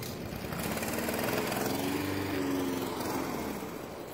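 A lawn mower engine runs steadily nearby, a continuous buzzing drone with a slight rise and fall in pitch, no talking over it.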